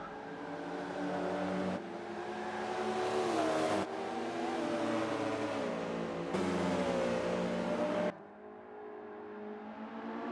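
Race cars lapping Laguna Seca in Forza 5, engines droning and rising in pitch through gear changes, heard in several abrupt camera cuts before the sound drops off.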